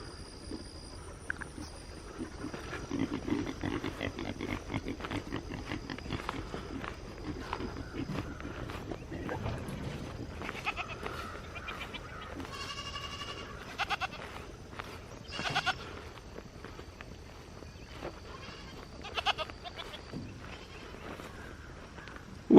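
Homestead goats bleat a few times amid shuffling hooves and movement around a pen, with scattered calls over a low background of footsteps, in the morning.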